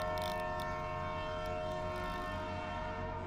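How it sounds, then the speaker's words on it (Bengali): A steam train rolls into Howrah station on a misty night, its low rumbling engine and steady mechanical drone filling the foreground, with a sharp high whistle-like burst near the start before the sound eases and fades slightly. "একটা বাঁশির শব্দ, তারপর ভেসে আসে ধোঁয়ায় ঢাকা একটি ট্রেন।"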